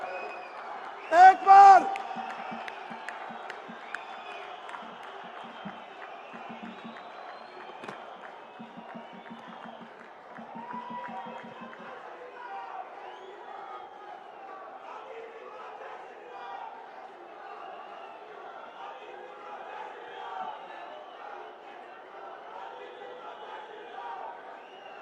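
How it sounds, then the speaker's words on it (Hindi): Crowd at a political rally in Udhampur: a loud burst of cheering early on, then sustained applause and crowd noise beneath someone speaking over a public address system. "जोरदार तालियों से"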